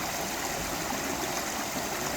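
A small, shallow waterfall over rocks gives a steady, dense rush of flowing water, close and constant throughout, with no voices.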